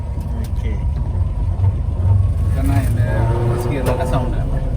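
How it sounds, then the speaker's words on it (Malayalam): Original old gearbox on an Ambassador car with an OHV MOWOG engine, running with a low rumbling drone and some rattling, under someone talking close by. "ഈ പഴയ ഗിയർ ബോക്സിൻ്റെ അംബാസഡർ ഒറിജിനൽ ഗിയർ ബോക്സിനുള്ള സൗണ്ട്"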